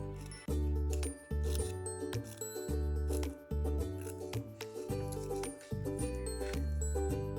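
Scissors cutting through folded paper for a children's craft, a run of crisp snips and metallic clicks of the blades, close and distinct, with short pauses between cuts.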